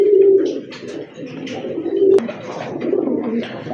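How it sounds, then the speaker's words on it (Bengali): Pigeons coo in a loft of birds kept for sale, including a big female, giving a continuous low throaty cooing nearby with a few faint chirps. "বিগ সাইজের একটা মাদি কবুতর"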